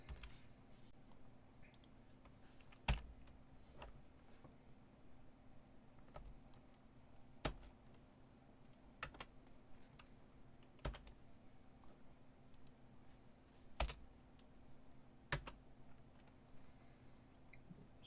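Someone types on a computer keyboard, irregular soft key clicks with a few sharper strokes, faint and close over a quiet room, with no speech.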